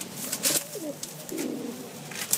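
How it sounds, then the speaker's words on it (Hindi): Patti pigeons coo softly nearby, low throaty rolling calls repeating against a light background hiss. "उन्होंने ये पट्टी वाले कबूतर भी रखे हुए हैं"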